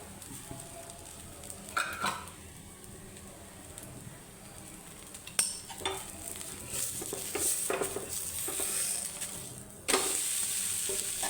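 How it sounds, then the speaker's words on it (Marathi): Amboli batter of onion and tomato cooking in oil in a pan, a soft sizzle with scattered stirring and scraping sounds that grows louder toward the end, close by and without speech. "पद्धतीने परतवून घ्यायचं आणि तांदूस झाल्यानंतरच परतवायचं"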